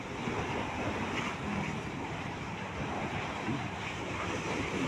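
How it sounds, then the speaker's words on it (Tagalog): Strong ocean waves churn and crash continuously at a seaside spot, a loud broadband roar mixed with gusting wind buffeting the microphone, no voices. "Lakas ng alon no."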